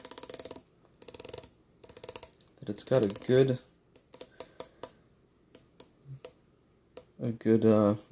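Short bursts of crisp ratcheting clicks as the 60-click unidirectional bezel of a Citizen Promaster NY0040 watch is turned, with someone speaking briefly between them.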